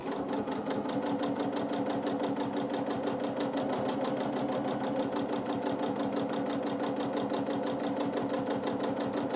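A sewing machine runs continuously for free-motion quilting of a swirl, a fast, even mechanical rattle of needle strokes at a constant speed, close and steady with no talking.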